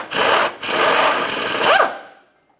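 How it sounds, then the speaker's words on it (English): A wrench working a 16mm nut off a transmission stud on a 1994–2002 Dodge Ram 2500, giving two close, harsh grinding ratchet-like bursts with a short pause between and a faint metallic squeak near the end. "We'll be removing this nut."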